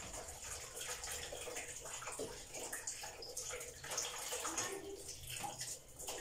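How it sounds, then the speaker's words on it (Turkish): Egg from the chicken coop washed under a running kitchen tap, with faint, continuous water splashing and trickling close by. "Yumurtamı da yıkayayım."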